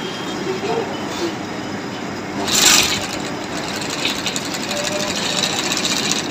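A Kansai sewing machine runs steadily, its fast mechanical stitching hum ongoing throughout, with a person talking over it and a brief louder burst partway through.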